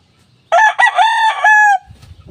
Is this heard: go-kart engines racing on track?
no